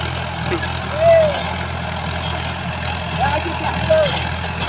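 A diesel farm tractor idling nearby, a steady low engine drone running throughout with someone talking over it.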